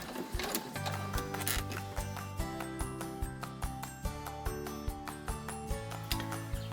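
A sewing machine stitches a fabric wallet in a fast, even mechanical run of ticking needle strokes, close and fairly quiet, with no talk.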